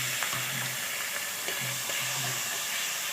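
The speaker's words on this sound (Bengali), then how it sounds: "মশলাগুলো যাতে পুড়ে না যায় তার জন্য একটুখানি জল দিয়ে ভালো করে কষিয়ে নেব" Spices sizzle steadily in a pan with a little water added while sautéing, a continuous hiss broken by a few soft scraping stir strokes, close and even in level with no talking.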